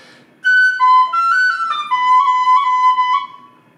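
A tin whistle plays a short melodic phrase decorated with a quick roll ornament, bright and clear, close up and alone with no talk.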